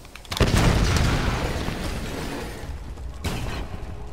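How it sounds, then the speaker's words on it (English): Explosions in Tomb Raider Definitive Edition: a sudden loud blast erupts and rumbles on with debris and crackle, then a second burst follows near the end, no speech. "we got explosions to call us by the look of it"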